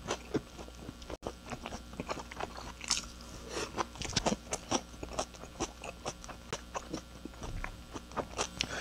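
Close, crunchy bites and chewing of spicy raw fish muchim with sea snails wrapped in a flat dumpling, in a Daegu restaurant, with a steady irregular rhythm of crisp bites and no talk.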